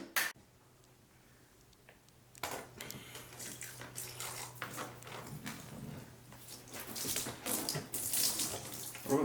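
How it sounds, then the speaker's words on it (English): Liquid pours steadily into a bathtub, with milk being poured over someone in a tub full of milk; a continuous splashing, gushing stream builds in intensity after a brief quiet start, close and fairly loud. "You're gonna have to pour the milk on him."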